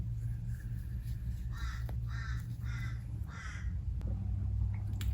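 Four loud, raspy crow caws come in a quick, evenly spaced run from a nearby bird, over a steady low rumble, with no talking.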